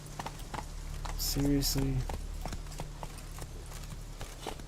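The horse Roach clip-clops along at a steady rhythm in The Witcher 3, hooves thudding close and continuous while a voice speaks briefly over them.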